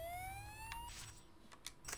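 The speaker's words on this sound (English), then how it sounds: "It sounds like an ambulance is coming." A rising siren wail from an approaching ambulance in the Spider-Man 2 video game, faint and fairly distant, sweeping upward once and then fading into soft background clatter.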